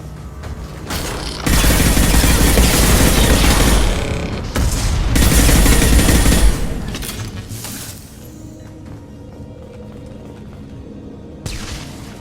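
A defensive turret fires in Mass Effect 2, sending out loud, sustained bursts of rapid mechanical gunfire with metallic clinks and booms in two long volleys. Quieter mechanical noise follows.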